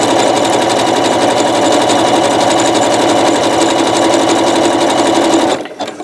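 A sewing machine stitches a rope bowl in a steady, continuous whir at close range, running without pause for over five seconds before stopping abruptly near the end.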